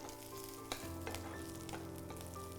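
Peanuts fry in a little oil in a pan, a soft crackling sizzle with several sharp pops and light stirring scrapes, quiet and close.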